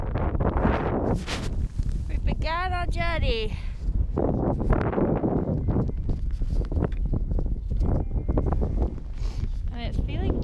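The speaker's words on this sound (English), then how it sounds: "It's very windy." Gusty Arctic wind buffets the microphone in heavy, roaring bursts while a person speaks, and a bird chirps briefly in the background.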